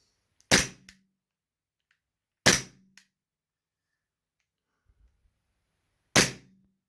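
An Umarex Glock 17 Gen 4 CO2 airgun fires three sharp, loud shots, each with a quick clack from the blowback slide, spaced about two and four seconds apart, with quiet handling between them.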